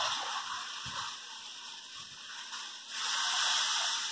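Water from a cup poured into simmering tomato sauce in a pan with toasted garlic and a pinch of salt, a steady close splashing gush that swells louder near the end.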